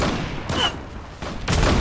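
Gunshots from the Bora 12 in the shooter game Zula, a few loud bursts spaced out across the stretch with short gaps of quieter game noise between them, no talking.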